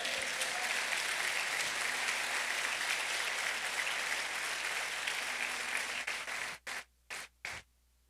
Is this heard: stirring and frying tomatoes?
no